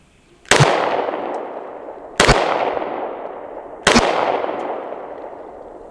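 Three loud, close gunshots from a Polymer 80 Glock-style pistol fired outdoors at a range, evenly spaced with a ringing decay after each report and no talking.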